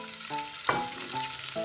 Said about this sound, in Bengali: আদা রসুন ভাজার পরে এবার যে বাদামটি আমি সিদ্ধ করে রেখেছিলাম সেটি দিয়ে দিচ্ছি।